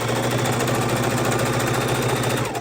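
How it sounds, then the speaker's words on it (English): A sewing machine stitches back and forth along the corner of a fabric microwave potato bag, running a steady, fast, mechanical whir up close for a few seconds before it stops. "In my corner, I usually back and forth to reinforce the corners"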